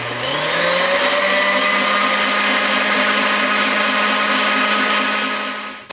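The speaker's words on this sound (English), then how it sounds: "we are going to whisk this on high for 10 minutes" An electric mixer running on high whips a mint chocolate ganache, a loud, steady whirring drone with a rising pitch as it speeds up, running nonstop before it cuts off abruptly with a small knock.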